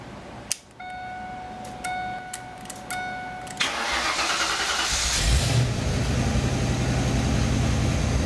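SN95 Ford Mustang with its ignition key bypassed and the dashboard removed, a few clicking beeps from the dash followed by the starter cranking and the engine catching, then idling steadily and loudly up close.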